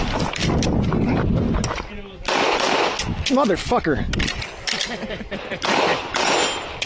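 Loud bursts of gunfire with metallic clanks and clicking, mixed with excited talk from a man who swears over the din.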